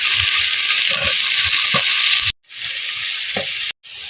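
Onions fry loudly in a hot pan with a close, bright sizzle and occasional low stirring knocks, cut off by two short silences.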